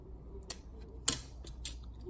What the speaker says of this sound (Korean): 마찬가지로 반대쪽도 그렇게 잘라줍니다.